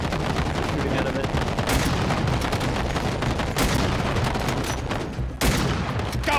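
Dense, loud video game gunfire in GTA during a purge event, including shots fired from an armored vehicle, with rapid continuous bursts filling the whole stretch.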